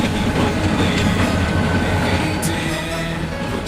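A train pulls into a station in Zimbabwe, a loud steady rumble of rolling wagons with faint wheel clatter and a brief high squeal near the end, with no voices over it.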